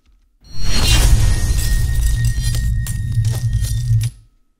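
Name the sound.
slow-motion debris shatter sound effect with glass pieces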